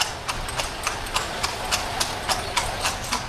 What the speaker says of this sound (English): you can see the train of horse and carts going past.